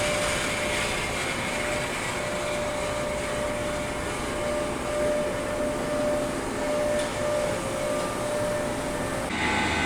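A steam turbine idling at about 1,300 RPM inside a former power plant converted to an incinerator gives off a steady, loud broadband roar with a constant whine running through it, continuous for the whole stretch with a slight change near the end.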